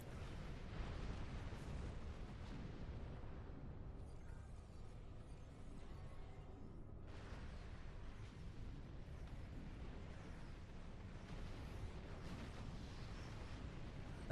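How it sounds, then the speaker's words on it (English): A space combat video game rumbles with repeated explosions and heavy bursts, dense and continuous, easing briefly in the middle before the booming builds again, with no one talking. "They really don't seem to get far from the spawn point before they just explode."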